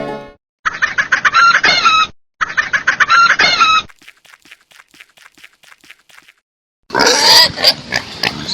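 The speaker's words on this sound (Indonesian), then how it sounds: "Babi." Loud squealing calls from a pig come in two close, strong bursts, then a run of softer rhythmic pulses, a pause, and one more harsh burst at the end.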